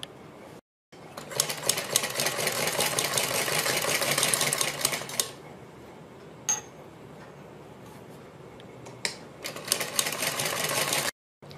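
Sewing machine stitching a folded fabric edge for a net neck design, a steady mechanical whir that runs in long bursts with short pauses, close and alone.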